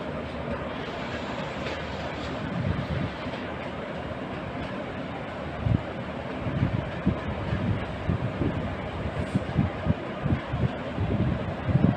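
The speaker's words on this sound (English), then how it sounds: "Oh, there's a train." A train passes by outdoors near a lookout, giving a steady broad rumble with rhythmic clattering that grows a little louder toward the end, with light wind noise on the microphone.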